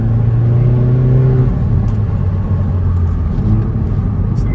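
A 275 hp Hyundai i30N engine revs near at hand, its rising note holding for a moment before dropping to a rumbling idle broken by crisp crackles and pops.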